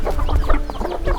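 Pet chickens clucking close by in a rural yard, a steady run of short overlapping clucks and squawks over a low background rumble, with no talking.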